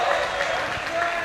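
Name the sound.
basketball crowd cheering and applauding after a charge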